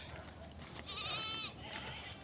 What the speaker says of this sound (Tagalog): maraming kambing oh